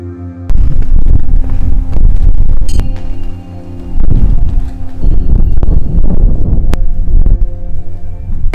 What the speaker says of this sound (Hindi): बहुत ज़्यादा तेज हवा चलने लगी है